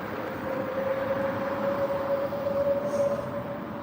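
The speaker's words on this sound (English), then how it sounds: "Ooh, hello train." A train passing during a walk to Carlisle Castle, a steady broad rumble with a long droning tone running throughout, heard from nearby outdoors.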